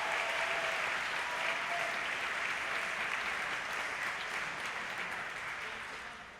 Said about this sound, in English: I think we need to give them a rousing applause now.